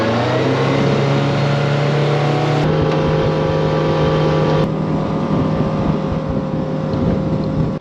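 A pontoon boat with strakes welded on and a Suzuki DF200A outboard motor underway, a steady loud engine drone with a shift in tone partway through, plus water rush and wind buffeting throughout, with no talk.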